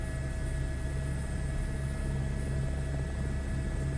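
Helicopter flying in Microsoft Flight Simulator, a steady low rotor rumble with a droning engine whine and constant tonal hum, continuous and fairly loud with no talking.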